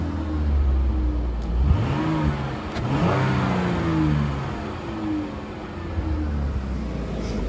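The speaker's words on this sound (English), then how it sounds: "We'll do a rev test real quick." A Dodge Durango Crew AWD with about 166,000 miles revs its engine at idle, giving a couple of close, rising vroom swells that fall back to a steady mid-pitched hum.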